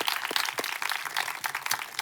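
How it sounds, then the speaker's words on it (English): A conference audience applauds, a dense burst of many hands clapping at moderate distance, steady and brief with no voices. "join me in a round of applause for all the people who helped bring this together"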